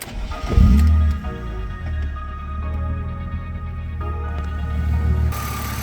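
A 260,000-mile BMW engine idles with a steady, low hum and faint mechanical whine, close and even throughout, after a brief louder bump at the start; no one speaks.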